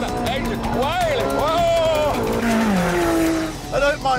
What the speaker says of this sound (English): Listen to that engine wailing!